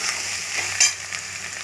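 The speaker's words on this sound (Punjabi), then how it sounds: "ਹੁਣ ਆਪਾਂ ਇਹਨਾਂ ਨੂੰ ਚੰਗੀ ਤਰ੍ਹਾਂ ਪਿਆਜ਼ਾਂ ਦੇ ਵਿੱਚ ਜੀਰੇ ਨੂੰ ਮਿਕਸ ਕਰ ਦਿੰਦੇ ਹਾਂ" Onions fry with roasted cumin in a pan as it is stirred in. A steady close sizzle carries throughout, with one brief scrape partway through.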